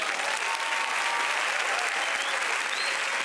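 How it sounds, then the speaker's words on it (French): Steady, dense applause from a comedy show audience in Cannes greeting comedian Yann Guillaume, a loud continuous wash of clapping with no pauses. "attendez un applaudissement pour monsieur Yann Guillaume"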